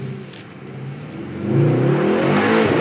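A Mercedes GT63 AMG in race mode pulls hard, its engine note swelling from a steady drone into a loud rising roar as it accelerates, heard up close with no talk.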